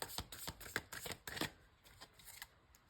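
A deck of tarot cards is shuffled by hand in a quick run of crisp, close riffling snaps and flicks that taper off after a couple of seconds, quiet and heard alone.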